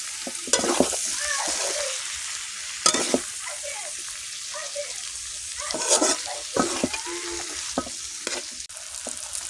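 Mixed vegetables with chopped tomato sizzle steadily in a pan, broken by repeated scraping stirs of a spatula at irregular intervals, close and fairly loud with no talking.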